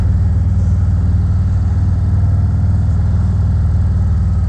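A 2019 Harley-Davidson Ultra Limited with a 114 cubic inch engine running, a deep, steady, loud low rumble with pulsing engine beats close by and no talking.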